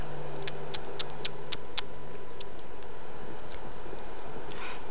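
Rain falls in the Minecraft video game, leaking into a hut under construction, a steady soft hiss with a handful of light ticking taps early on and no talk.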